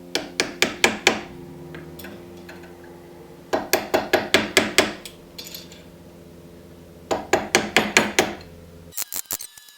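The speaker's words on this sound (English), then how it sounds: "So now I'm going to go and press on my new bearing." A new centre bearing is driven onto a Ford Transit propshaft, heard as three close, loud runs of sharp metallic strikes, each series of rapid hits separated by short pauses, ending with a quicker clatter.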